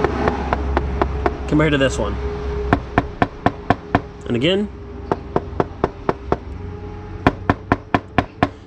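Repeated sharp knocks on a hollow plastic glove box door of an MK3 Volkswagen Jetta, evenly paced and close, with someone talking briefly between the taps.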